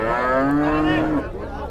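An HF calf at a cattle market gives a single loud, close moo lasting about a second, then quiet background with no talk.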